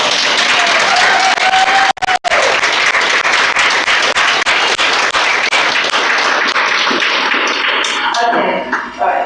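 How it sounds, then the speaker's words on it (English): Church congregation applauding during a service, a dense, steady wash of many hands clapping close and loud for about nine seconds, with a brief break near the start and fading at the end. "Actually, let's clap first."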